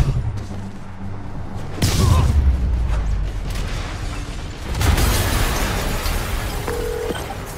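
Two deep booming explosions in the video game Marvel's Spider-Man Remastered, each a loud low thump with a rumbling tail, set against a dense game soundscape.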